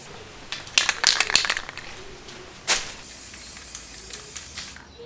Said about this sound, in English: After two cans of spray paint only